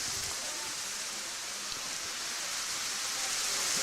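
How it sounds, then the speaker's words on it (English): Heavy rain pours over a baseball field during an American Legion game, a steady dense hiss of falling water with no other clear sounds. "It's raining hard now,"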